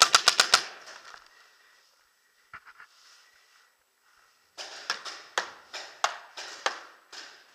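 Paintball markers firing during an outdoor paintball game in Salem, Oregon, a quick burst of sharp pops at the start, a few faint shots, then a rapid string of evenly spaced cracks, with no talk.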